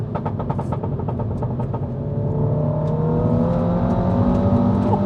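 A modified 400+ BHP F56 Mini pulls hard through the gears, engine note rising loud and close from inside the cabin, with a brief rapid burble at the start before a sustained climbing drone, no voices.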